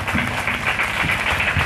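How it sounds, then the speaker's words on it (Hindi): Audience applause at a Kavi Sammelan poetry recital at a children's public school, a steady dense patter of many hands clapping together, fairly close and continuous with no talk over it. "ठोको भैया ताली, बहुत बहुत धन्यवाद"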